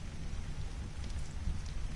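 Steady rain pours in the game Ark Survival Evolved, a dense continuous patter with low rumbling beneath, moderately loud and without voices.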